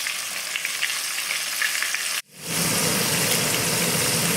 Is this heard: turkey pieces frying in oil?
yes